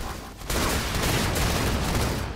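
Brute Shot grenade launcher fire in the Halo 2 Anniversary multiplayer match, a loud, dense burst of explosive blasts erupting after a brief quieter lead-in and sustained to the end.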